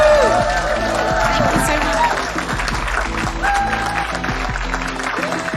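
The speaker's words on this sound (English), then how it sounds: "can we have a loud round of applause?" Applause with some cheering rises from the audience at a Media Storm talk on Westminster elitism, filling the room while a speaker talks over it and thanks the crowd.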